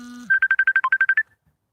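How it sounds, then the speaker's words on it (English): A phone ringtone for an incoming call chirps in a quick run of about ten short, even electronic pulses, loud and close, then stops abruptly into silence. "Sorry about that. A phone call came in."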